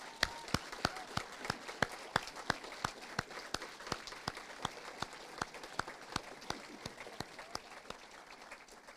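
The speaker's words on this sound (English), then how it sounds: "Can we give them all a big round of applause?" Scattered applause at an awards ceremony: a small audience claps in sharp, distinct, fairly sparse hand claps that thin out and fade over several seconds, heard from a distance with no talking.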